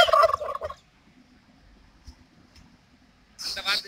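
A turkey gobbles in a brief, bubbling burst at the start, then a quiet pause with faint rustling before another loud gobble near the end, close and clear.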